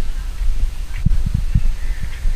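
Crows caw on a cold morning near a beach outside Mumbai, several short, rough calls in an irregular run, fairly close, over a low outdoor rumble.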